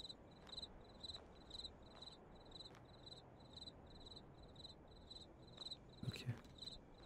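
Crickets chirp steadily in a graveyard scene from the horror video game Graveyard Shift, short regular pulses repeating over low ambient hum, with a brief louder thump near the end.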